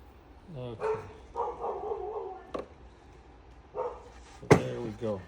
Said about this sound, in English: We're just gonna go out and let my dog in.